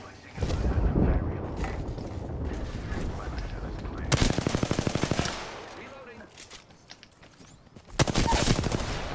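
Video game gunfire in bursts of rapid automatic shots, with loud volleys around the middle and again at the end, over a busy mix of game sounds and someone talking.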